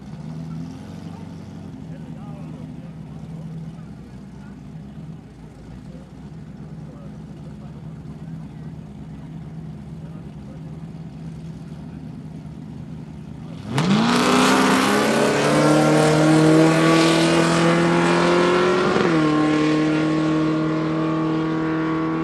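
A Camaro with a 5.7 engine at a drag race idles with a low rumble under talk, then launches abruptly into a loud roar of rising revs, shifts gear once and keeps pulling hard.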